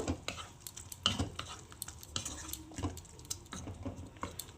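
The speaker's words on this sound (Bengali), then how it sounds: "এর মধ্যে একটু ঘি আর একটু গরম মশলা গুঁড়ো দিয়ে দিচ্ছি তো এটাকে খুব ভালো করে মিশিয়ে নেব" Doi kochu (taro in yogurt) curry being stirred after ghee and garam masala are added, a spoon scraping and clinking against the pot in irregular strokes over a soft background sizzle, close and moderately loud.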